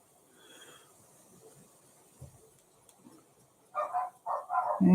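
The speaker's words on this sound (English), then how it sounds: "get prepared for the dogs to start barking" Quiet room hum, then a dog breaks into a run of several loud barks near the end, close by.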